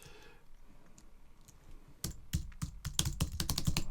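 Keys clatter on a computer keyboard during an Adobe InDesign lesson. After a quiet stretch comes a quick burst of close, crisp keystrokes, including a press of the carriage return key. No speech is heard.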